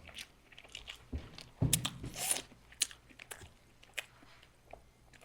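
Crispy outer crust of slow-roasted meat being bitten and chewed up close, giving a loud crunch near the start, then a string of smaller crisp crackles and wet chewing sounds with no voices.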